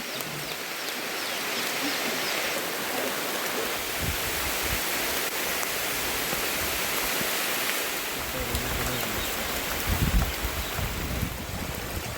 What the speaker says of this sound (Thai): ฝนตกแล้วทุกคน